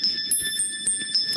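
Bright keyboard tones mapped from the hydrogen pattern of the element table ring as a short run of steady, bell-like notes repeating at a quick, even pulse, clear and alone.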